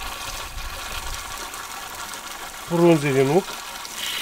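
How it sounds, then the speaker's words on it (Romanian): Water pours steadily into a 12-litre garden sprayer that already holds a vinegar and nettle solution, a continuous hissing gush running throughout, with a short spoken phrase near the end. "O să-l umplem cu apă."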